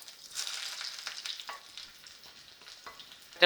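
Small onions sliced thin and frying in oil just after mustard seeds popped, a tempering for Kerala sadya parippu curry: a quiet crackling sizzle with soft stirring scrapes, close, and a sharp knock at the very end.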